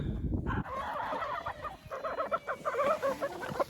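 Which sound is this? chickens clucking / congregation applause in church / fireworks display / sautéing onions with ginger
chickens clucking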